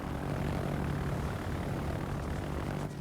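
Steady droning roar of torpedo bomber propeller engines in World of Warships, a loud continuous aircraft hum held for the whole stretch with no speech over it.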